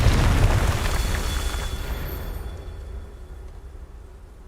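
A Confringo fire-blast spell from Hogwarts Legacy bursts in a loud, close, booming explosion, then its rumble fades away over about four seconds.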